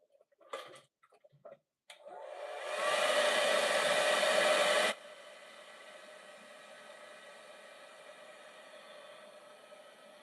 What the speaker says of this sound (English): Let me hit this one with the hair dryer.